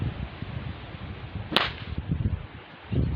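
A homemade whip cracks once outdoors, a sharp, loud snap standing out over steady wind noise, with softer handling thumps and rustle after it.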